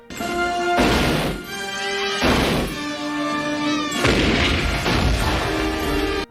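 Film gunfire from the 1986 Christmas fantasy Babes in Toyland, as a toy army opens fire. Repeated loud blasts and crashes are layered over a sustained orchestral score.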